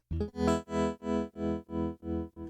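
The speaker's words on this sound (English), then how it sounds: "let's try some optical trem. 60s bias trem." Electric guitar run through a Line 6 Helix 60s bias tremolo, a sustained chord pulsing in steady, even volume swells about three times per second, loud and close with no talking.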